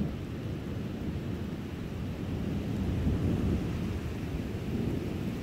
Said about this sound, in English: rain's moving in closer to the tree